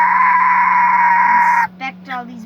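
A person imitates barnyard chicken sounds: a loud, sustained squawking tone held for over a second, then a few short clucking bursts, with a low hum beneath.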